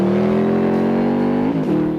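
A 2003 Mosler sports car runs fast on a test track, its engine a loud, close, steady high-pitched drone, with a brief gear-change dip near the end before the note picks up again.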